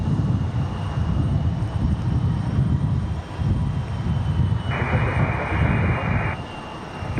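An aircraft departs on runway 23 right at Raleigh-Durham International on a high-wind day, a loud rumbling engine roar that swells and dips, heard close with a brief radio-like burst partway through.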